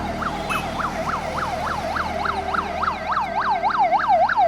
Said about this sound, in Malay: Kadang-kadang bunyi ambulans tu memang perkara biasa lah.